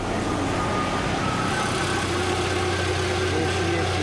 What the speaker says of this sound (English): There she is, she's running. Give her a little rev.